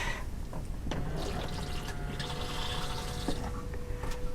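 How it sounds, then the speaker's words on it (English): A caravan toilet flushes with a continuous rush and gurgle of water that runs steadily throughout, close and fairly loud with no talking. "Flushing the toilet."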